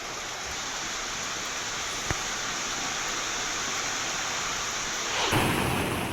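Torrential monsoon rain in Nandurbar district pours down as a loud, unbroken roar of dense hiss, with one sharp crack partway through and a surge in intensity near the end, no voices.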